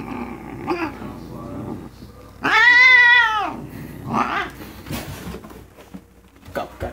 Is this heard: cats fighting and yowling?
yes